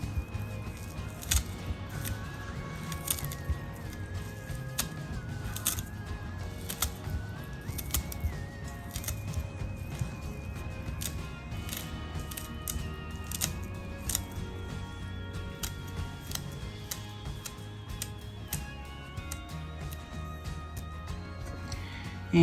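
A knife scrapes potato greens in quick, repeated tapping strokes that run steadily at close range under quiet background music.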